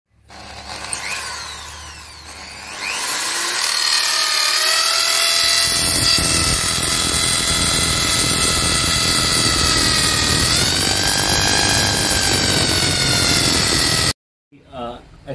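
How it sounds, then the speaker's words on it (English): An iBELL impact drill bores into a metal pipe, its motor whining loudly and steadily for about ten seconds with shifting pitch, then cutting off abruptly. "So let's drill this pipe"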